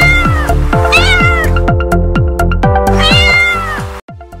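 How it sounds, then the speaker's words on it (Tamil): A cat meows in a rapid, loud series of close calls, some drawn out into rising wails, with no other sound alongside. "மியாவ் மியாவ் பூனைக்குட்டி, மியாவ் மியாவ் பூனைக்குட்டி"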